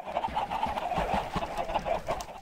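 Many chickens clucking together in a large Minecraft chicken farm, a dense, continuous chorus of overlapping clucks, steady and fairly close throughout.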